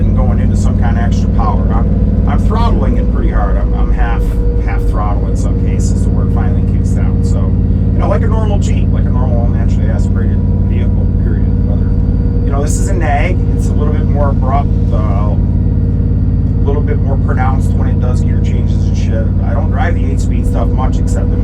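A truck engine under hard throttle on a wet road gives a loud, constant low drone with road hiss. Someone talks continuously over it.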